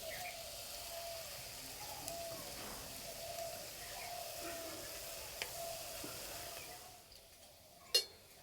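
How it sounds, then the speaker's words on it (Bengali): Palm fruit (tal) fritters deep-frying in oil give a steady, fairly quiet sizzle that runs throughout, with a few small pops and one sharper crackle near the end. "আর কি মোটা মোটা হয়ে ভাজা হচ্ছে।"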